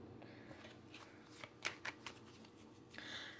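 Tarot cards being shuffled, heard as a quiet, soft rustle with a few sharper flicks and riffles clustered near the middle, alone without any talk.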